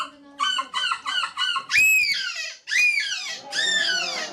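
A person in a seagull-imitation contest mimics gull calls, giving a run of quick nasal yelping notes followed by three long, loud, rising-and-falling squawks, close and prominent.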